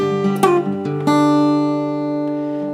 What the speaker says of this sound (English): So the very first part of the arpeggio sounds like this.